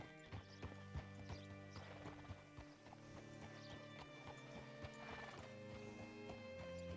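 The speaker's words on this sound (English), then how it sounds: "Hitch your horse up here." Steady clip-clop of horse hooves in the video game Red Dead Redemption 2 over a busy mechanical backdrop, with a horse whinnying partway through; no voices.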